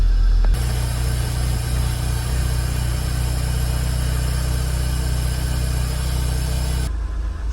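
A Toyota MR2 engine, freshly rebuilt, idles steadily and close by with a low, even drone and faint vibration that holds unchanged for several seconds, with no talking.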